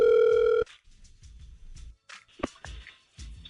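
A telephone dial tone during a radio station call, a loud steady tone for about half a second before it cuts off, followed by quiet clicks and faint line noise.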